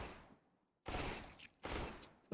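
Two quick pistol bursts from Counter-Strike: Global Offensive, each a sharp cluster of close shots separated by a short pause, loud and alone with no talk.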